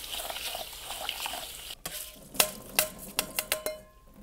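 Grains of raw, unsoaked rice swish and rattle in water for a couple of seconds as they are washed, then several sharp clinks and taps follow. Close by, no voices.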